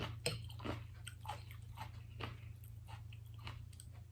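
Close, crunchy chewing of Thai khanom jin rice noodles eaten with som tam papaya salad, with repeated bites and mouth sounds at a steady rhythm over a low constant hum.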